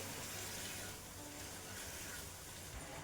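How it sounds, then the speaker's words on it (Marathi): A steady, faint rush of running water flows continuously into a pot of methi curry on a high gas flame. "मी इथं पाणी टाकून घेते"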